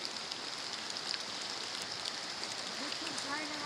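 Heavy rain falls steadily during flash flooding in Augusta, Georgia, a dense, close hiss of drops hitting wet ground, with a voice faintly heard near the end.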